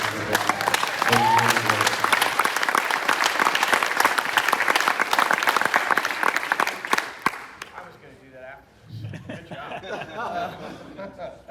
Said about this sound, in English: And if everyone could give them a round of applause.